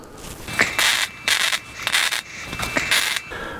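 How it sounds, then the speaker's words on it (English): Steel angle being welded onto a track sled frame, heard as a series of short crackling, hissing bursts about half a second to a second long, separated by brief pauses, with a thin steady whine running underneath. "And we'll weld that into place."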